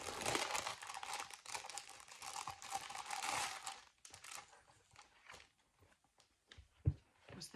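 Crinkly plastic packaging rustles close up in bursts, loud at first and then in scattered softer crackles and handling noises.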